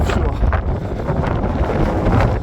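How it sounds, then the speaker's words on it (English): Strong wind batters the microphone on an exposed Welsh mountain hike, a loud, continuous rumbling buffet with gusty surges throughout. "That was a windy section."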